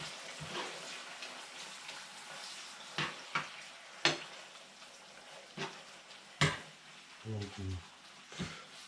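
Peppered minced meat frying in a pan is stirred, with a soft steady sizzle broken by several sharp scrapes and clacks of the spoon against the pan, close and clear, with no talk.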